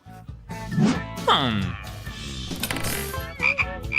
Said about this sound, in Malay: Seekor katak.